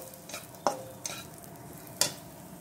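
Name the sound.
raisins roasting in ghee in a pan on low flame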